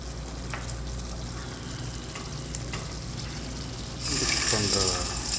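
Paneer and pea curry bubbles and sizzles steadily in a pan, with a louder stirring, splashing surge near the end.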